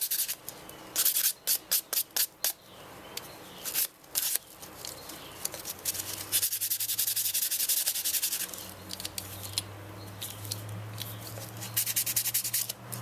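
Sandpaper rubbing over a 2004 Volvo XC90 key fob. It opens with short rapid strokes, then settles into long continuous sanding close up with a steady abrasive hiss.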